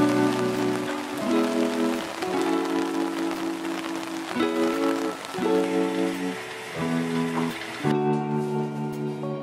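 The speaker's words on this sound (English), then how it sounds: "First full day here in Kyoto, and it's raining so hard." Heavy rain falls outdoors in Kyoto as a steady hiss beneath louder background music, with no talk.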